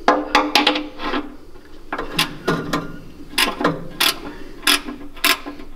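A ratchet wrench clicks in short bursts of rapid pawl ratcheting during an oil change on a 1979 Ford F-100 with a 351M engine, several quick clicking runs separated by brief pauses, close and fairly loud.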